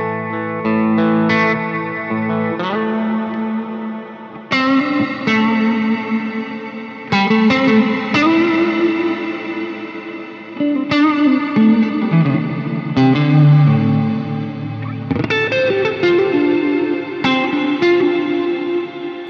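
A Meris Polymoon delay pedal on guitar smears its short, sharp repeats into a dense, smooth reverb wash, with chords ringing and blooming in long shimmering tails, loud and continuous with no talking.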